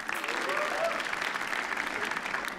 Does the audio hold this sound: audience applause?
yes